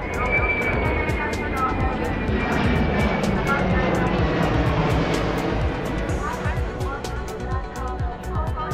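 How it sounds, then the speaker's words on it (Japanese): A Japan Air Self-Defense Force C-2 transport aircraft flies past at an international fleet review, its engines producing a loud, steady roar that fills the whole stretch, with faint voices underneath. "続いては初参加となります航空自衛隊 C-2 輸送機です。"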